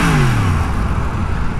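Yamaha FZ-series motorcycle engine revving loudly up close, a falling whine that drops in pitch and settles into a rough, throbbing rumble.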